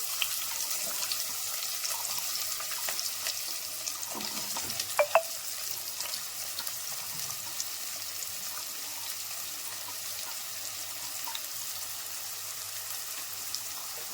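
Onions, green chillies and drumsticks fry in oil with tempering spices, a soft, steady sizzle, fairly faint, with an occasional light clink and no talking.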